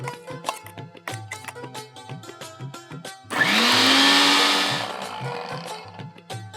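A blender grinding bhajiya batter whirs loudly for about a second and a half, its motor rising in pitch, between stretches of clattering kitchen noise.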